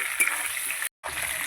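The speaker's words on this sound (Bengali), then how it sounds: "আলুর সঙ্গে দিয়ে আমি আলুটাকে আর একটু ভাজবো।" Potatoes and onion frying in oil in a pan, a steady close sizzle with faint bubbling that runs on evenly and then cuts out briefly before it resumes.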